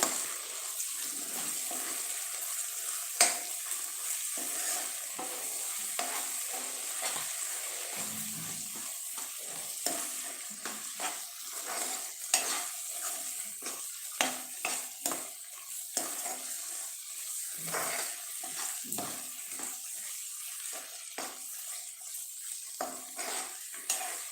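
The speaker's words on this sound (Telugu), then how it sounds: "ఆల్మోస్ట్ ఒక సెవెంటీ పర్సెంట్ ఫ్రై అయిపోయిందండి ఇంకొక ట్వంటీ పర్సెంట్ అయిపోతే చాలు మనం రైస్ మిక్స్ చేసుకుందాము" A tomato and rice mixture sizzles steadily in a pan while a utensil stirs and scrapes through it, making irregular clinks and scrapes over a constant hiss. No one speaks.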